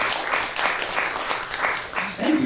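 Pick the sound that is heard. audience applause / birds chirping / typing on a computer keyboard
audience applause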